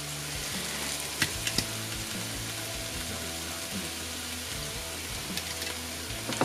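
Milk poured into a sizzling butter and flour roux for lasagne, giving a steady close frying hiss with a few small clinks and stirring sounds throughout.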